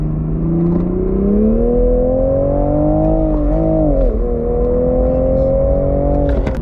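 A Toyota Supra special edition engine revs and accelerates up close, its tone climbing steadily, dipping sharply partway through, then rising again in a loud, continuous run.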